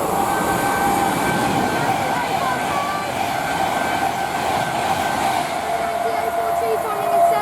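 A departing train at Rugby on the West Coast Main Line, a London Euston to Manchester Piccadilly service, gives a steady, loud rail rumble with tonal whine throughout, while voices talk over it.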